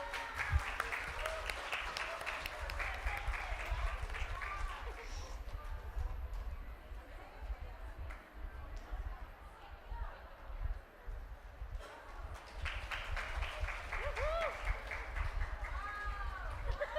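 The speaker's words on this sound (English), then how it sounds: "Everyone give a round of applause." An audience claps at a conference prize-giving. The applause swells, dips midway, then rises again, and talk and crowd chatter blend in around it.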